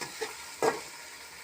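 Gar fish curry being stirred in a pan, a soft scrape near the start and a louder scraping stir in the middle against a faint sizzle, with no talking.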